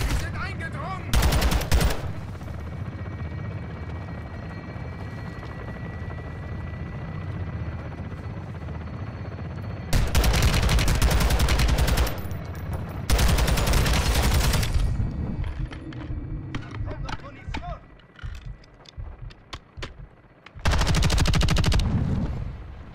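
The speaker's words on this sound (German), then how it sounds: "Ich sehe sogar seine Maske und schieße ihm ins Gesicht" Bursts of automatic gunfire in Modern Warfare 2 (2022), several loud sustained volleys separated by quieter stretches of battle noise and a rotor-like hum, with voices faintly beneath.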